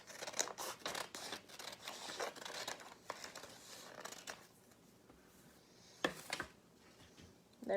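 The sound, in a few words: cutting origami paper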